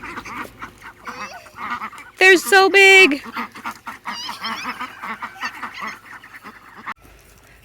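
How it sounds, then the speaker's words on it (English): Large, fully grown farm ducks honk and quack loudly up close in a brief, raucous burst, with softer calls continuing while people talk nearby. "The ducks have gotten huge."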